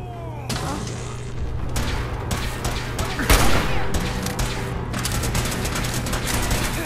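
Sustained gunfire in the video game Fallout 4, loud close bursts of rapid shots with heavier booms mixed in, continuing steadily throughout.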